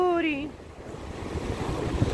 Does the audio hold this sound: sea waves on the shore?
yes